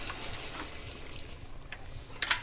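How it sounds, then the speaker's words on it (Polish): Water is poured into a pot of pasta, a soft continuous splashing and trickle at moderate level with a brief brighter splash near the end. "Teraz makaron potrzebuje troszeczkę wody."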